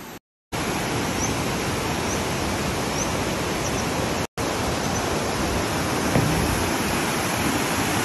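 Waterfalls at Martin Brod, Bosnia, roaring as a loud, steady broadband rush that fills the whole clip, broken only by two brief dropouts near the start and middle.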